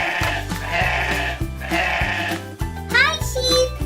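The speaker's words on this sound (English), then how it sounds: "It was the sheep!" A sheep bleats loudly over a steady, thumping background music track, with a wavering, rising cry near the end of the short passage.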